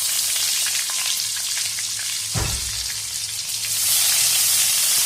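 Panch phoron spices crackle in hot oil as a continuous close sizzle, with a single dull knock near the middle and the frying swelling slightly louder toward the end.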